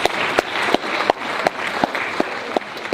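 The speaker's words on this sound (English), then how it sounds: "Give yourselves a round of applause." Audience applause after a sing-along of Waltzing Matilda, a crowd clapping steadily with a few sharp, louder claps standing out at regular intervals close by.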